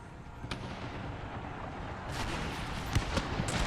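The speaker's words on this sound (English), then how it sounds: "I'm gonna order him to use grenades again." Grenades exploding during a battle in the Empire Total War video game, with a steady rumble of combat and sharp bursts standing out near the end.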